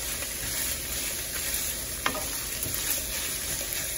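Chorizo with egg frying and browning in a pan, a loud dense continuous sizzle heard up close with one brief tap partway through.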